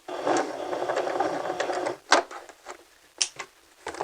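A sewing machine runs a 2.5 straight stitch with back stitch in a close, buzzing two-second run, then stops, followed by a few short stitching bursts and clicks.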